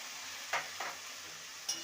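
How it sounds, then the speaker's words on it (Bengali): Ground spice paste hits fried bitter gourd and vegetables in a hot pan, giving a soft, steady sizzle with a few brief stirring scrapes, close and alone. "যে মশলাটা বেটে রেখেছিলাম সেই মশলাটা দিয়ে দিলাম"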